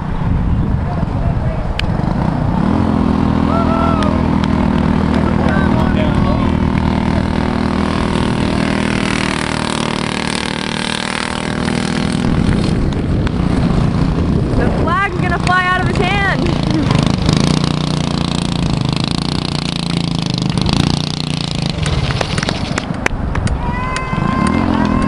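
A racing car rounds the track on its victory lap at an ORV Main Event, a steady engine drone running throughout with revving bursts and crowd or announcer chatter mixed underneath.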